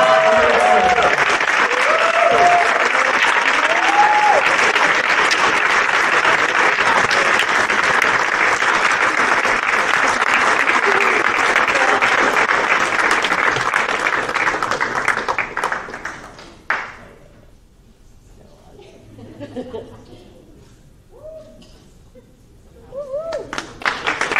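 A banquet crowd at the 2024 Whitman Athletics senior awards applauds a lacrosse award winner, loud sustained clapping for about sixteen seconds that stops abruptly, followed by quiet room sound and a voice speaking.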